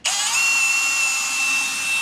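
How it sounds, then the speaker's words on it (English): A power drill with a 5mm bit bores holes into the body of a Honda S2000 being built into a race car, one steady, close, high-pitched whine running for about two seconds after a sharp start. "drill in the holes for the catch"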